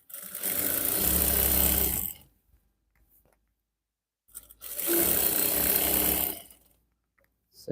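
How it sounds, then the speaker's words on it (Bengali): A tailor's sewing machine stitches pajama fabric in two steady mechanical bursts of about two seconds each, with near silence between them. The whirring is close and fairly loud. "ভাবে এটাও কিন্তু সেলাই করে নিতেছি"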